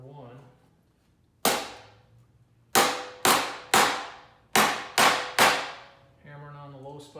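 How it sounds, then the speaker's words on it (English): Sheet metal on a vintage Skilsaw 825 box lid struck with a hammer against a dolly to work out dents, seven sharp ringing metallic blows in irregular rhythm, each decaying quickly, with a low voice murmuring at the start and end. "Hammering on the low spots, hammering on the high spots, dolly on the low spots."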